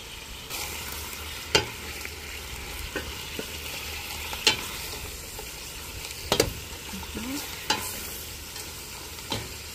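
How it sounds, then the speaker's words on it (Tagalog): String beans stir-fry in a pan with pork stock cube, giving a steady sizzle broken by several sharp scrapes and clanks of a utensil against the pan at irregular intervals. "Unahin ko muna yung sitaw kasi mas matigas yan eh."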